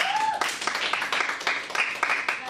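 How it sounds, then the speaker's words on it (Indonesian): Classmates clap for a student during a school accounting class presentation, a short burst of scattered hand claps with voices mixed in underneath. "Kita beri tepuk tangan."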